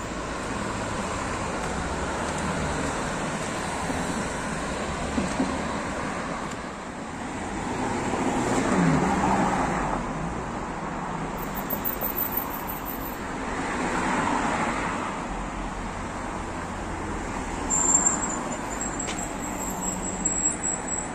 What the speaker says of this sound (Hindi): ये ट्रेम है और सामने से गाड़ियाँ आ रही हैं